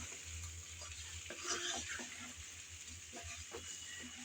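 Spicy chicken wings cooking down in a pan, a quiet, steady sizzle with soft scraping and knocking strokes as the pieces are stirred and turned, close but faint.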